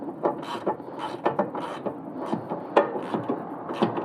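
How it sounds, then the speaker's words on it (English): Straps being cinched down on Ricochet arm guards fitted to a 2021 Maverick Trail, with ratcheting clicks, rubbing and scraping in irregular short bursts, close and moderately loud. "I'm just going to cinch these down"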